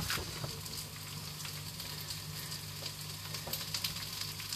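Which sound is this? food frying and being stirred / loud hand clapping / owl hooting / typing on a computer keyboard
food frying and being stirred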